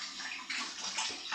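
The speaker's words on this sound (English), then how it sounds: "So let's give this potato a good rinse." A potato being rinsed under running tap water while making Spanish chicken soup: a steady close splashing stream with brief gurgles, no voices.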